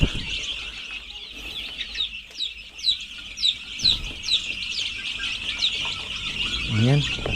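Chickens on a Philippine farm cluck and squawk in a steady, busy chorus close by, with a brief louder squeal near the end.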